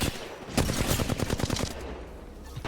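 Rapid automatic gunfire in the video game Apex Legends, a close burst of about a dozen sharp shots in quick succession, then a few scattered pops as the firing trails off, with no speech.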